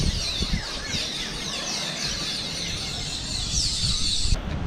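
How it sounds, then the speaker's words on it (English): A dense chorus of loud, shrill bird calls chatters continuously on a university campus in Grenada, over a rough outdoor background, with rustling and scuffing noises below. "These are some loud-ass birds."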